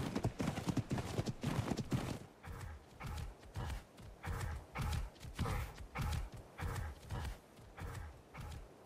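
Hooves of a ridden mount in the video game Ark clop along at a steady walking rhythm after a brief louder jumble at the start, moderately close with no talking.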